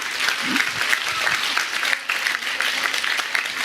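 Steady applause from an audience at a New Year church gathering, dense clapping filling the whole stretch at even loudness with no voices on top.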